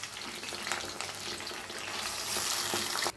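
Grated raw mango sizzling and frying in a hot pan of oil with curry leaves for mango puliyogare paste, a steady close crackle with occasional stirring scrapes throughout.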